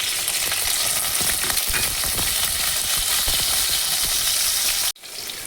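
Garlic and green chilies frying in hot oil for a moringa leaf bhaji, a loud continuous crackling sizzle with stirring close up, broken by a brief drop near the end before the frying noise returns.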